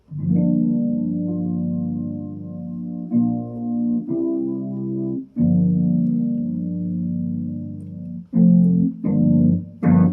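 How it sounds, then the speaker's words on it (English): Sustained Korg Kross keyboard piano chords with a warbling chorus effect shimmer, several held notes changing every second or two, loud and close with no talking. "with the master effect on, it actually gives you a chorus effect"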